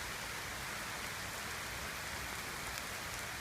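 Steady rain pours down beside a small creek on a trail in South Milwaukee, a dense, even hiss with no break, no voices, and a continuous close wash of drops.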